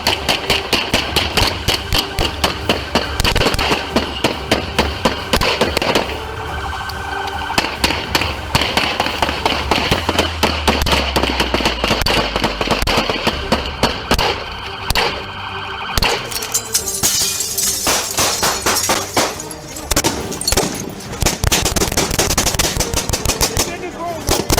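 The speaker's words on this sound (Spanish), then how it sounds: "Las balas volaron." Rapid bursts of gunfire crack through a chaotic police shootout, loud and dense and mixed with engine noise, an alarm-like tone and other clatter throughout.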